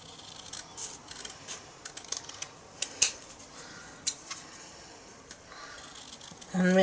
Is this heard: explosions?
no